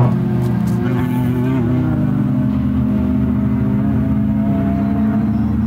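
Close, steady drone of a BMW E46 M3 engine lapping a race track, a constant mid-pitched hum with a few brief clicks and knocks early on, no voices.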